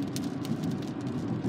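Rain falling on a moving car during a thunderstorm, a steady close patter of drops on the body and glass over a low road and engine rumble, continuous and even throughout.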